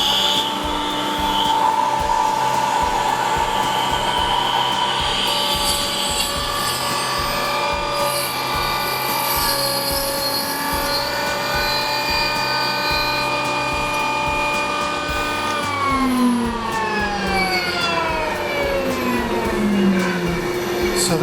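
A Festool Kapex miter saw whining loud and close as it cuts, the motor's tone holding steady, then falling away as the blade spins down, with brief talk in the background.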